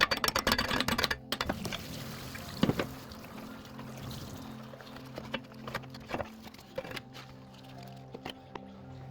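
A stuck water pump pulley on a Suzuki Forenza engine is whacked during a head gasket repair, giving sharp, irregular metallic knocks up close, some in quick clusters, separated by softer handling clatter.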